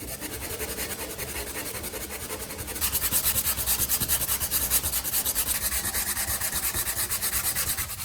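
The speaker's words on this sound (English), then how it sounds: "grab a piece of fine grit sandpaper and smooth the surface until it's nice and even." Steady rhythmic sanding of a surface with fine grit sandpaper, close and even back-and-forth rubbing strokes that grow louder and more pronounced partway through, with no talking.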